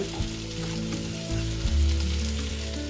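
Dried red chillies and spices dry-roasting in a pan give a steady crackling sizzle with soft stirring scrapes, close and fairly loud, with no talking.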